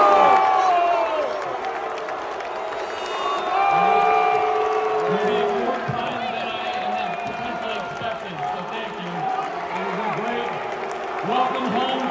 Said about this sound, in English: The crowd was mixed with some booing and others cheering